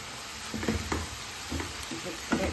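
Chicken stirred in a pan with tandoori masala and coarse black pepper, giving a steady frying sizzle broken by soft, repeated scraping and stirring strokes close by, with a voice speaking briefly.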